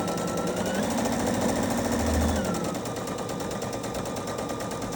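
A sewing machine runs a continuous stitch along a pajama-pants crotch seam, a steady rapid mechanical chatter held close and even throughout, with no talk.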